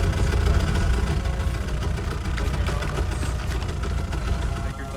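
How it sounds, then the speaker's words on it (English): Several military truck engines idle together during a Marine Corps Pacific campaign exercise, a steady, loud low rumble with a rough mid-range churn that continues without a break, with no voices. "I'll let you turn off the truck engines"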